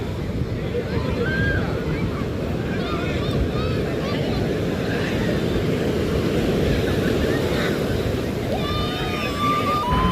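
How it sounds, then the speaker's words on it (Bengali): Large sea waves breaking on the beach at Puri, a constant roaring wash of surf with wind buffeting the microphone, and faint voices of crowds of bathers in the background. "বিশাল বড় বড় ঢেউ রয়েছে আর প্রচুর পর্যটক কিন্তু স্নান করছে দেখুন"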